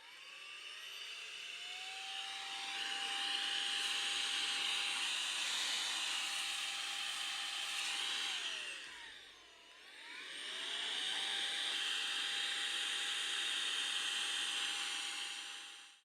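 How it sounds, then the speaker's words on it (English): An air duster blows dust out of a PlayStation 4 console in two long, loud, whirring hissing bursts, separated by a brief pause in the middle. "use this air duster just to give it a little blowout, just to make sure I've got all the dust out"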